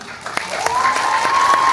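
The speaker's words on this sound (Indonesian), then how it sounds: "Silakan teman-teman, tepuk tangannya dari ISBI Bandung" Audience applause at an ISBI Bandung kendang drumming arts showcase, a brief burst of clapping building to a steady wash, with a sustained tone and some voices mixed underneath.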